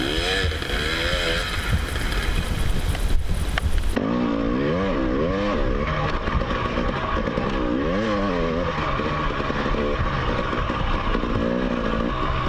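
A dirt bike rides through sand whoops, its engine droning loud and continuous. The revs rise and fall in rolling waves as the throttle works over the bumps, with no voices.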